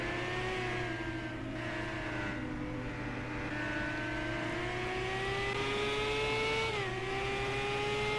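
An IndyCar race car engine at the Mexico Grand Prix screams steadily, pitch climbing and dropping through gear shifts as it pulls up into higher gears, loud and continuous with no talk.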